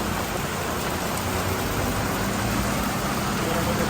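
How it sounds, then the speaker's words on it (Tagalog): Heavy rain pours down steadily as a loud, continuous wash of noise from start to finish, with no breaks. "Oh, lakas ng ulan."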